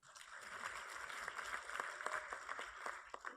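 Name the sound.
audience applause at a panel introduction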